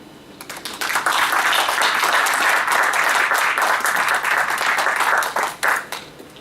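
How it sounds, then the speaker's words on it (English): An audience applauds at the end of a discussion panel session, a dense, steady wash of many hands clapping that swells in and holds for several seconds before thinning out. "So the applause is all to you"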